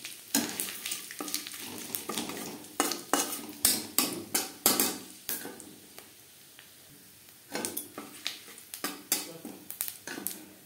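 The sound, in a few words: frying five-spice and bay leaf in hot oil in a wok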